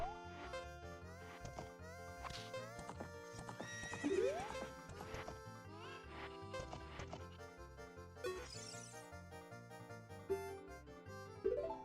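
Video-game horse in the Ocarina of Time horse race: steady clip-clop hoofbeats with several whinnies and neighs over busy game music, fairly close and clear.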